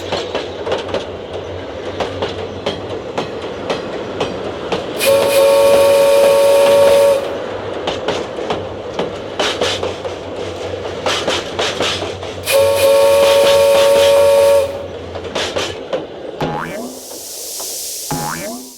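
A steam train chugs along with a rhythmic puffing, broken twice by long, loud whistle blasts, then ends in a hissing release of steam.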